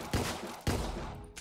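Two sharp gunshots about half a second apart in the video game Deadbolt, loud and close, followed by a fainter burst at the end.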